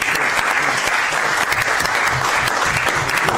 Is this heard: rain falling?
no